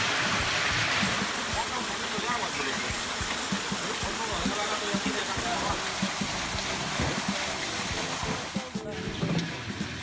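Water rushes steadily through a coffee washing channel on a coffee farm, carrying floating cherry pulp downstream; a loud, continuous broadband wash fills the whole stretch without pause.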